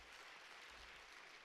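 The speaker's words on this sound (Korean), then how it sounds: "격려의 박수 합시다." Church congregation applauds in encouragement during a Sunday worship service, a brief, even stretch of dense clapping with no talk.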